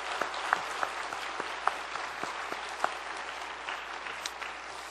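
Church congregation applauding to welcome guests during a Sunday service, a soft, even patter of many hands with a few sharper individual claps, fairly distant and without talk.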